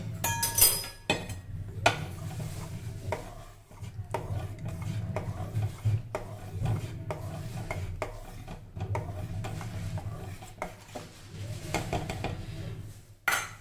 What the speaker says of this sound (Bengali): এইবার মা ভালো করে নেড়ে ছেড়ে দেবে।